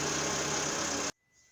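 A Citroën Berlingo car engine, TU5JP4, idles with a steady, even rumble and hum, then cuts off abruptly, leaving near silence.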